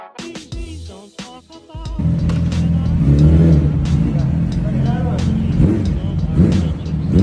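A Yamaha R6 600 cc sport motorcycle engine revs loudly close by after a brief moment of speech, with repeated rising throttle pulls and a sustained high-pitched whine.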